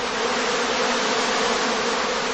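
A honeybee swarm in a heather skep apiary hums loudly and steadily, a dense continuous drone of many bees moving restlessly, close and unbroken throughout.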